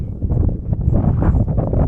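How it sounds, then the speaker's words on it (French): Strong wind buffets the microphone on a high mountain summit in the Sancy range, a loud continuous low rumble with gusting surges throughout. "Toujours bien avec le vent en hauteur."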